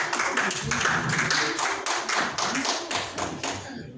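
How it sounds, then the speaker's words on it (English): Audience applause at a conservative campaign forum as a speaker is invited up for closing remarks, a dense round of clapping that stays steady and fairly loud before tapering off near the end. "A round of applause as he takes."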